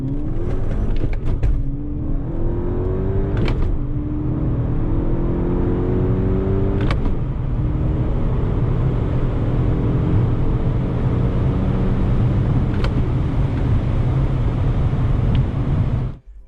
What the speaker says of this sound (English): I'm just blipping the clutch just enough to deload the transmission so I can get into the next gear